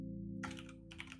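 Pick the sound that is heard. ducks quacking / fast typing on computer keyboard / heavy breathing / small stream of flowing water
fast typing on computer keyboard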